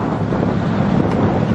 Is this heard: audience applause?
no